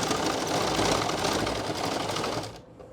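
An electric sewing machine runs continuously while stitching a salwar, a fast, even mechanical whir that carries on for a couple of seconds and then cuts off.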